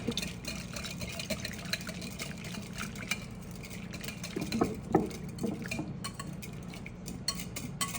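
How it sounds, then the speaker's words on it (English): Vinegar and chopped shallot dressing stirred in a bowl, with light clinks and scraping of a utensil against the sides, steady and close with no talking. "Then we're going to give this a little stir."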